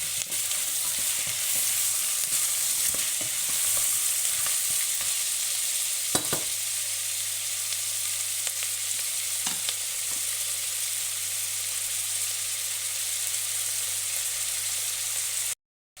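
Daube ingredients sizzle and brown in a pan, a steady close frying crackle that holds for the whole stretch, with a few clinks of stirring and no voices.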